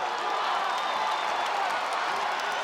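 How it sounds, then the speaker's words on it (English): Loud, steady roar of an arena crowd cheering during a UFC women's bout between Zhang Weili and Joanna Jedrzejczyk, a dense continuous wash of voices with no single claps standing out. "Crowd at a fever pitch here as Zhang Weili and Joanna Jedrzejczyk go toe-to-toe"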